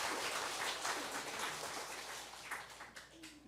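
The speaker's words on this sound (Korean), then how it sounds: "우리 박수 한번 돌립시다." Congregation applause in a Korean Sunday morning church worship service, a dense, steady wash of many hands clapping together at moderate level, continuing without break for a few seconds.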